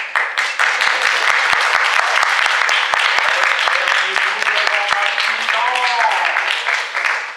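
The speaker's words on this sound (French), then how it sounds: "Oh, moi, Zeus, je déclare un tonnerre d'applaudissements." Applause from a theatre audience at a comedy sketch, a dense, steady wash of many hands clapping throughout, with a few voices briefly calling out over it near the end.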